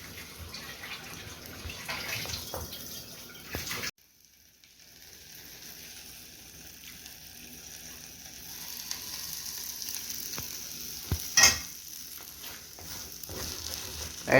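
Soft sizzling in a pan with intermittent scraping as an okra and egg mixture is stirred, briefly dropping to near silence before the frying resumes.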